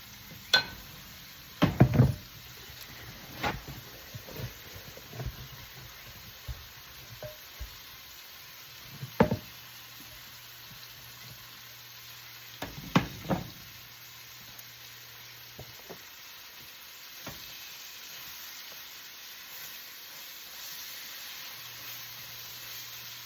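Beef searing in a hot pan for stew gives a steady low sizzle and hiss throughout, broken by several sharp knocks and clatters of utensils against the pan, with a faint hum in the background.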